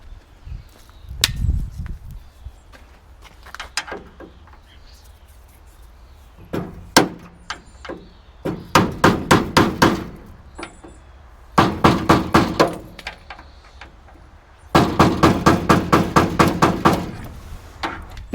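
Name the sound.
hammer tapping a screwdriver to straighten classic car window tracks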